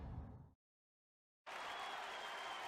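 Crowd cheering and applause in The Great Ace Attorney Chronicles courtroom, swelling loud and steady after a short silence at the not-guilty verdict, following a brief burst of game sound.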